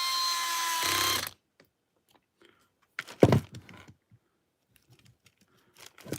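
A power driver whirs steadily for about a second while screwing a part into a 3D-printed cantilever kit on a TRX4 RC truck. Quiet clicks and clattering handling noises follow.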